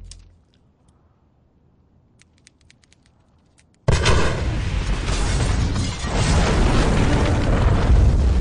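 Sudden loud explosion in the video game Saints Row 2, a heavy boom that breaks a near-silent stretch of faint clicks and rolls on as a dense, roaring blast with a wash of debris and rumble.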